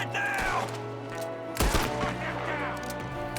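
Gunfire from an outlaw shooting out of a window in Red Dead Redemption 2, sharp cracks at the start and a heavy close blast partway through, amid steady in-game background sound and scattered higher calls.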